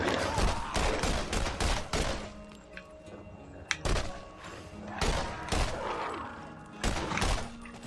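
Gunfire in the video game Borderlands, with repeated bursts of shots aimed at the player, loud and broadband, amid game sounds and thuds over several seconds.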